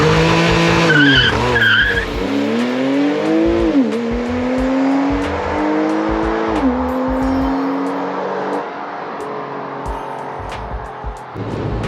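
A Porsche 997.2 Carrera S launches hard in launch mode, its flat-six engine revving loud and climbing through rapid upshifts with a brief tire squeal at the start, close and continuous with no talk.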